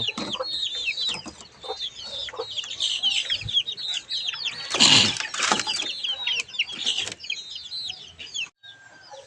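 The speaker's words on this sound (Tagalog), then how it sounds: "ang ating mga sisiw" Chicks peeping and cheeping in a busy, overlapping chorus, close and fairly loud, with a brief louder cluck-like burst partway through.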